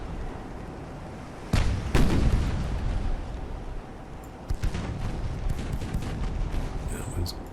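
Main guns of a warship in the naval battle game Ultimate Admiral: Dreadnoughts fire in heavy booming blasts, two close together early and more later, over a constant rumbling battle background.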